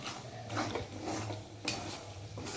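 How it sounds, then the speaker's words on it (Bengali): Spoon stirring spiced patty filling with sugar, ghee and garam masala in a pan, giving soft scraping and clinking against the metal with a faint sizzle, steady and close, no voices. "এবার আমরা ভালো করে নাড়িয়ে নামিয়ে নেব।"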